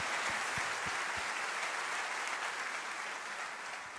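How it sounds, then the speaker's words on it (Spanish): A church congregation gives a sustained round of applause in gratitude to Jesus, dense clapping at steady strength that eases slightly toward the end, with no voices over it. "Denle un fuerte aplauso de gratitud a Jesús."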